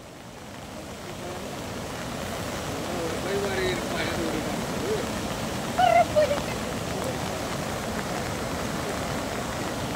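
Floodwater rushes over a weir on a swollen village stream, a steady broadband roar with wind buffeting the microphone throughout, a few brief faint sounds rising above it near the middle.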